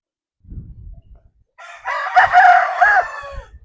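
A Sweater Roundhead gamefowl rooster crows once, loud and close, a single drawn-out cock-a-doodle-doo after a few seconds of low rustling and background noise.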